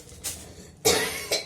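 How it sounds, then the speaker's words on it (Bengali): Two or three sharp coughs from a person suffering a heavy cough, one short burst followed by a louder, longer cough and a brief final hack, close and clear with no talk. "এত আর কাশি হচ্ছে, প্রচুর কাশি।"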